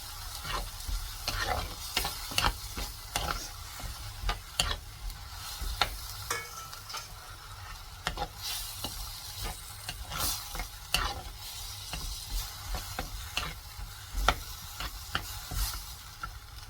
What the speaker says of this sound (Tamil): இதுவும் பச்சை வாசனை கொஞ்சம் போகிற வரைக்கும் வதக்கிக்கலாம். ஹை ஃப்ளேமில் வச்சுக்கோங்க.